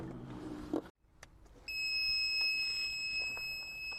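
A background rumble cuts out, then a car parking sensor buzzer starts a continuous high-pitched electronic beep that holds steadily, close and fairly loud.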